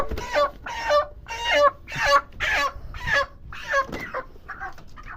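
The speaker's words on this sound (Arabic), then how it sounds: "فرخة بانيه فرخة شواية برضو، فرخة مطاعم" Broiler chickens of about three kilograms clucking on a poultry farm: a close series of rhythmic, repeated calls, one after another, fading slightly toward the end.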